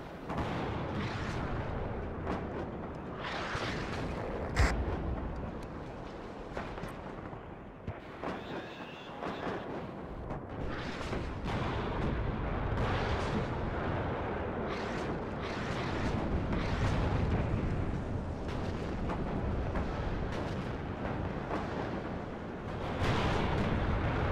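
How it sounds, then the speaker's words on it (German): Artillery fire in the real-time strategy game WARNO: a long run of repeated booming impacts and rumbling blasts, some near and heavy and others farther off, layered into dense, continuous battlefield noise. "schon wieder Artillerie."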